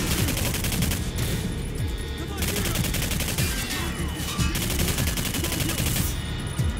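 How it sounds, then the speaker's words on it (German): A grenade explosion in the first-person shooter Singularity, buried in dense, continuous gunfire and chaotic combat noise that stays loud throughout, with no clear single blast standing out. "Boom hat's gemacht. Granate!"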